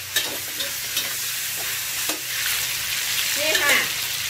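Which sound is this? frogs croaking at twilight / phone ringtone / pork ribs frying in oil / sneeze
pork ribs frying in oil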